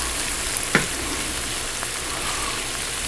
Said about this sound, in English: I just keep coming back and checking on it and stirring it till we get the bacon starting to brown up